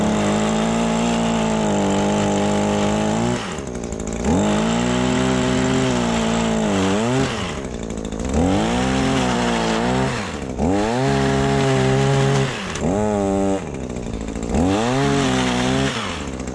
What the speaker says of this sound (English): So get the chain spinning, get it up to full RPM, and then start cutting.